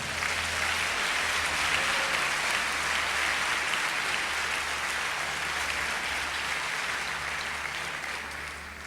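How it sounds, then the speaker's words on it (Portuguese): Church congregation applauding, a steady dense wash of clapping that fills the room and holds at an even level throughout, with no pause. "Se você crê, dá uma salva de palmas, Senhor."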